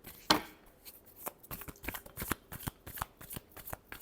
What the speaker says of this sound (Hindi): ये पर्सन के लिए लास्ट शफल।